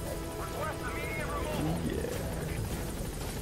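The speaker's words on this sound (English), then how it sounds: "We call this the hookah helicopter." A helicopter arriving in the video game Metal Gear Solid V gives a steady rotor thrum and engine drone throughout, heard beneath people talking.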